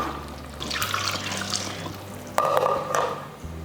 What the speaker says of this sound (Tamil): இன்னும் கொஞ்சம் தண்ணி சேர்த்துக்கலாம்